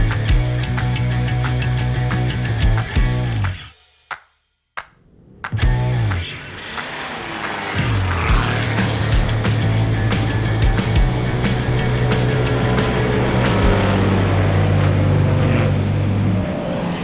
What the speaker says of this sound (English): we're about to do the most epic, Jeep four-wheel drive drag race you've ever seen